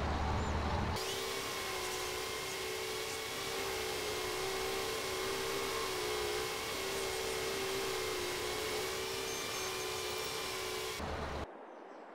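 A mower working a field in Farming Simulator 22 holds a steady, droning mechanical hum with a constant whine for about ten seconds, then cuts off abruptly.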